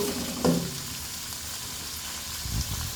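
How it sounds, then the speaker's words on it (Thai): Garlic stir-frying in a pot for squid with salted egg, a close steady sizzle with a short clatter of stirring near the start and another toward the end. "ผัดปลาหมึกไข่เค็ม"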